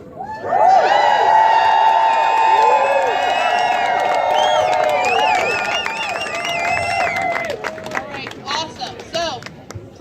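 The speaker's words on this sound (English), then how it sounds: "Let's start cheering." A campaign rally crowd for a California congressional candidate erupts in loud, sustained cheering and whooping, with shouts and scattered clapping, fading to lighter claps and voices toward the end.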